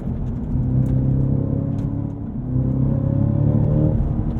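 Cadillac CT5-V Blackwing engine while driving, a deep steady rumble that rises and falls slightly in two waves, close and loud with no talking.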